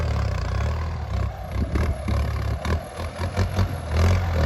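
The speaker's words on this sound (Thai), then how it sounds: "กับรถไถคันนี้นะครับ" A new Kubota M8808 12x12 tractor engine runs with a deep diesel rumble, pulsing and rising in repeated revs with some clatter, heard close.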